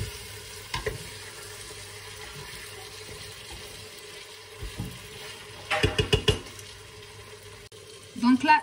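Tagine with fresh parsley and coriander being stirred in a Cookeo multicooker: a steady low sizzle with a quick run of scraping stirs toward the end, close by and fairly quiet.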